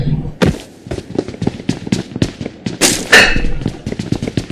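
Rapid gunfire bursts ring out in the Free Fire video game, a dense string of loud, sharp shots and booms crowding the stretch with no spoken voice over them.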